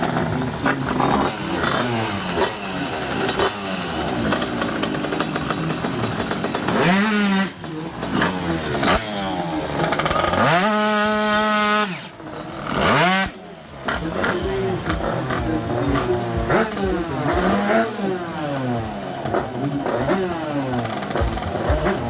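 A racing scooter engine at a race meeting, loud and close, revs hard in repeated rising and falling sweeps. A short lull is followed by more high-revving runs.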